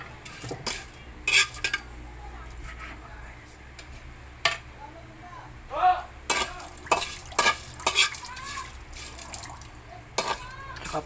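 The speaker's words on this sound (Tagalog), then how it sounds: "Sinangag lang muna natin sa walang mantika." Anchovies dry-toasted in a pan without oil, with a spatula repeatedly scraping and clinking against the pan over a faint crackle, close by, and a voice speaking briefly in between.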